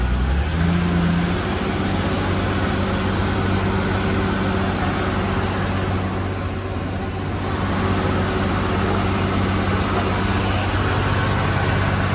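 A vehicle engine labours up a slope on a crowded Thursday market road, holding a loud, steady low drone that dips briefly midway and then resumes.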